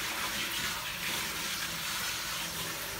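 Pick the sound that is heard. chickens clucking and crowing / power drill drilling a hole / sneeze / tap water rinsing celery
tap water rinsing celery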